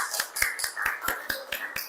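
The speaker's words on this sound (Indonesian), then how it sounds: "Tepuk tangan." Short sharp claps in a classroom during a history lesson, about eight distinct bursts spaced unevenly over two seconds, fairly faint and with no talking over them.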